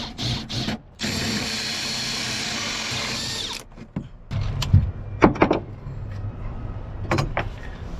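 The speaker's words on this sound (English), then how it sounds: "Of course it's unnerving drilling a hole in the side of the boat." A hole saw grinds steadily through the side of a boat for a few seconds, loud and close, then stops, followed by scattered knocks and handling clatter.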